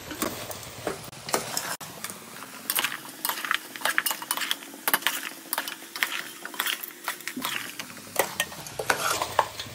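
A spoon scrapes and stirs goat head curry in a pan, giving close, rapid rhythmic clatters with a faint sizzle underneath, and no talking.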